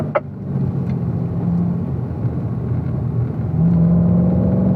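A Corvette on the Spring Mountain racetrack powers out of a corner after braking into turn 3, its engine a steady, loud low rumble that rises slightly in pitch and volume toward the end, heard alone.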